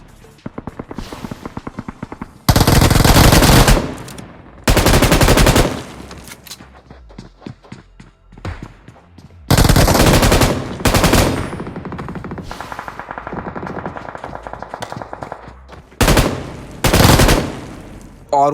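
M249 machine gun in BGMI (PUBG Mobile) fires several loud sustained bursts, with quieter game sounds and other shots in between.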